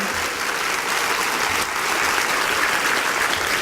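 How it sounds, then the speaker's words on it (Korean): A church congregation applauds after children perform in a Korean Methodist church service, continuous even clapping filling the room at full volume throughout. "다시 한번 박수 하나님께 영광 돌립니다"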